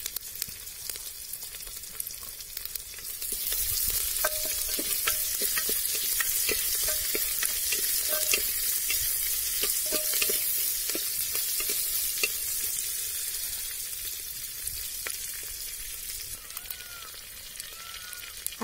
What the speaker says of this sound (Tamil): கடுகு பொரிஞ்சிருச்சு, வெங்காயம் சேர்த்துக்கலாம். வெங்காயம் சேர்த்ததுக்கு அப்புறம் நம்ம கருவேப்பிலை சேர்த்துக்கலாங்க